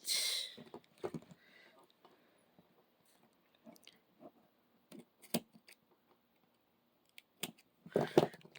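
Scissors cutting paper and an index card while making a no-sew 4x6 journal, a few sparse close snips and rustles separated by quiet pauses, with a louder burst of cutting at the end.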